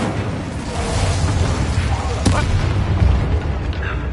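A fiery Incendio spell cast in a wizarding video game, heard as a sudden whooshing burst over a dense rumbling battle din with booming impacts, fairly loud and continuous.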